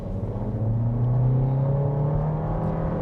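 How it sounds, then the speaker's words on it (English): VW Tiguan accelerating on boosted throttle, a low engine drone with a rising tone building gradually and steadily, heard from inside the cabin with no talk. "we'll go ahead and give it a boosted throttle."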